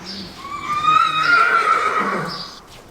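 A horse in a stable gives a loud, close whinny that rises and then trails off over about two seconds, with faint shuffling around it.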